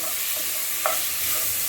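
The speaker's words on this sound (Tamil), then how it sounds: "தக்காளி சேர்த்து நல்லா வதக்கணும்." Tomatoes and onions for sambar are sautéed in a pan, making a steady sizzle with a faint scrape of stirring, and no one talks.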